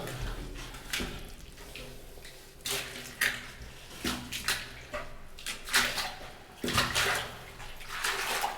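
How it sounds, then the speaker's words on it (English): Sloshing, splashing steps through deep, murky water inside an abandoned nuclear fallout shelter tunnel, heard as irregular bursts of wading a few times a second, close and moderately loud with no talking. "So this water is getting quite deep and murky."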